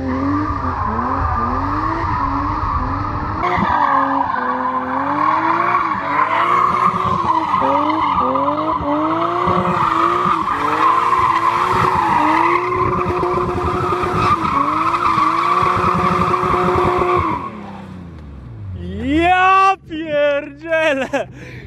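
A 317 hp BMW M3 E36 drifting on Warsaw streets, its engine held at high revs with a loud, wavering howl and long tire squeals, ending in sharp rev spikes and screeching.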